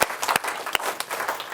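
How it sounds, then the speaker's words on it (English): A live audience breaks into applause after a presentation: dense, steady clapping from many hands, fairly close and loud, with a few sharper individual claps standing out over the short burst. "Let's give them a big round of applause,"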